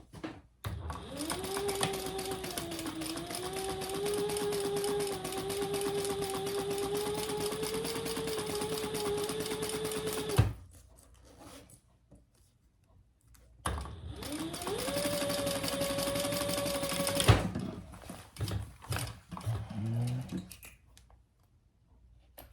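A sewing machine basting a quarter-inch seam runs in two steady whirring bursts, one of about ten seconds and a shorter one later, close and clear, with brief quiet pauses and small handling noises between runs.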